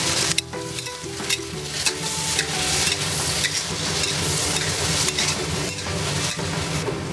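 Shiitake mushrooms and broad beans stir-fry with garlic in hot rendered lard, giving a steady loud sizzle with repeated scraping stirs of the spatula throughout.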